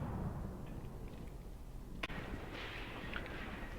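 Distant artillery barrage shelling in Graviteam Tactics, a low continuous rumble with one sharp blast near the middle and scattered fainter impacts afterward.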